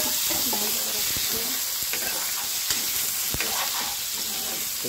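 Onion and chili fry in a pan with potato and brinjal added for a fish curry, a steady soft sizzle with occasional stirring scrapes and clinks throughout.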